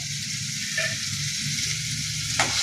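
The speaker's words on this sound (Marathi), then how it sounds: "कांदा टाकून घेऊया. तेल गरम झालेले, लसूण." Onion and garlic hit hot oil for egg bhurji, giving a steady, close sizzle with a few clinks of a utensil against the pan. No voices.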